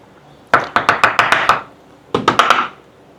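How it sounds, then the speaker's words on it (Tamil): A knife chops spring onion finely on a board in a cooking challenge, a quick run of about seven sharp, loud, close knocks, a short pause, then four more, with no talk. "இந்த மாதிரி நல்லா பொடி பொடியா வெட்டிக்கோங்க ஸ்ப்ரிங் ஆனியனை"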